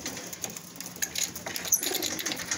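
Racing pigeons in a loft give soft, intermittent coos amid faint rustling and occasional wing sounds, fairly close and quiet.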